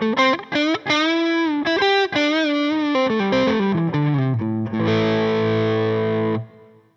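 Electric guitar through a blues overdrive pedal giving a light crunch, with a run of picked notes and bends ending on a sustained chord that rings and then stops, loud and close with no voice.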